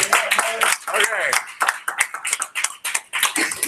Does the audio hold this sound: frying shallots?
no